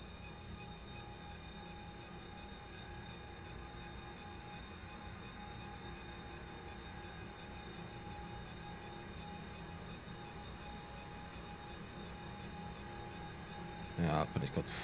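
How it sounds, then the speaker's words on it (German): An ICE high-speed train running in the simulator game Trainz 22, a continuous droning rumble with steady tonal hum, unbroken for the whole stretch, ending with a brief burst of sharper clatter near the close. "für den Edit werde ich euch mal den Zug etwas leiser machen"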